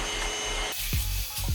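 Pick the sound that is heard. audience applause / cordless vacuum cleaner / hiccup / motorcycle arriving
cordless vacuum cleaner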